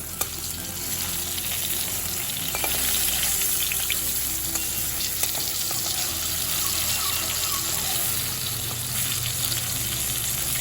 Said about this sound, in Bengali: আমার 6টা মাছ, 2 ব্যাচে আমি এই মাছগুলো ভেজে নেব।